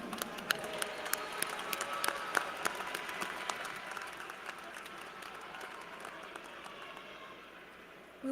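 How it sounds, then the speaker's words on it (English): Applause from the crowd honoring graduates at a fall university commencement, steady scattered clapping at moderate distance that slowly thins and fades over several seconds. "Let's give all of our graduates a round of applause."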